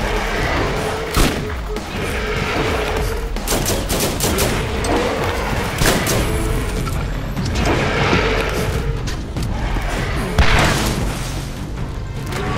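Gunfire from an automated turret in the game Borderlands, with rapid sustained bursts, cracking shots and booming impacts running continuously and loud throughout.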